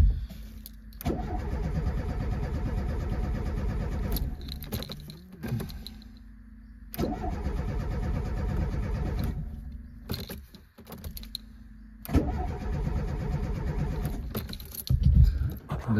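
Renault Super 5 GT Turbo engine cranking without catching, three long bursts of starter churning separated by short pauses, close and loud, with clicks between attempts.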